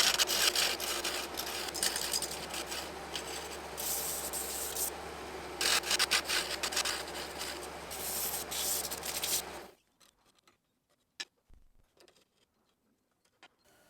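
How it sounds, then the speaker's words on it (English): Steady raspy sanding of wood against a spinning lathe, loud and continuous with brief bursts of harsher friction, then stopping abruptly into near silence. "I highly recommend sanding"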